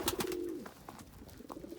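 Pigeons cooing in a crowded coop: one low, drawn-out coo swells up close in the first half-second, then softer coos and rustling follow from the flock.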